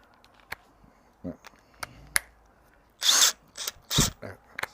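Makita TD170 18V cordless impact driver fitted with a large socket, giving two loud, close bursts of rapid hammering whir near the end, after softer tool clicks and handling noise in a woodworking shop.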